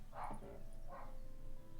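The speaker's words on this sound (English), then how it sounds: "Sorry if you can hear the dog barking." A dog barks twice in the distance, two muffled faint woofs under a steady background hum.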